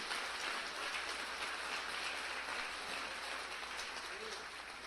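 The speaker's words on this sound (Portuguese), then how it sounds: "Pode aplaudir a ele." A church congregation applauds during a sermon, a dense, continuous wash of clapping that holds steady for several seconds, loud and full, with voices mixed in.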